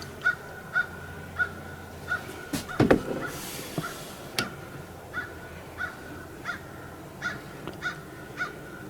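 Distant crows caw repeatedly in a steady rhythm, with a brief louder rustling thump partway through.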